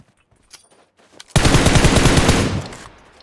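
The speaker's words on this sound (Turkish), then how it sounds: "Abi soldan sıkıyor, dikkat et bak." An enemy player in PUBG Mobile fires one loud, close burst of rapid automatic gunfire lasting just over a second, after near silence, then it fades into ringing echo.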